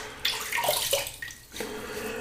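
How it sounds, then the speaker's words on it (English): Water dripped onto the face of a silvertip badger shaving brush, a short close splash and trickle lasting about a second, followed by a quieter wet patter. "Just drip a bit of water onto the face of the brush as always."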